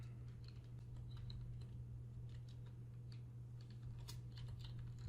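Faint, quick keystrokes on a computer keyboard as a line of text is typed, soft clicks scattered over about five seconds above a steady low hum.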